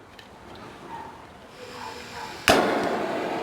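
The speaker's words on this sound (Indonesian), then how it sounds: "Kita gunakan torchnya akan kita tembak" A kitchen blowtorch caramelising sugar sprinkled on crème brûlée: a quiet room, then an abrupt loud hissing roar that bursts on and holds steadily to the end.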